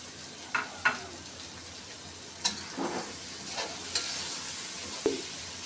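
Fried prawns are stirred into a sizzling masala in a pan, giving a steady frying hiss broken by several separate scraping stirs and spoon knocks.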